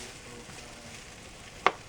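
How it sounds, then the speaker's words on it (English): Potatoes and onions frying in oil in a frying pan, a steady close sizzle with a soft crackle throughout and one brief sharp tick near the end. "you can hear it's frying up pretty good right now"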